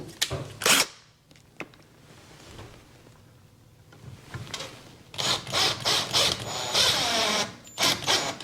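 Screws being driven into a switch box on a boat with a power drill, several short whirring bursts near the start and a faster run of quick bursts toward the end, close and fairly loud.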